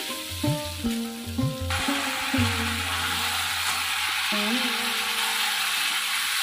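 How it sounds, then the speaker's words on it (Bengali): Spice paste of ground coriander, ground spices and ginger paste sizzles and fries in a pan, with a few clanks of stirring early on, then a steady close hiss alone. "দিয়ে ভালো করে মশলাটাকে আমি একটু কষে নেব।"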